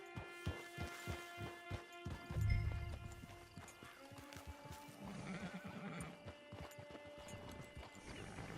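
A horse in the Red Dead Online video game clip-clops with steady hooves, then lets out a loud neigh, with hoofbeats and ambient game sound continuing quietly afterward.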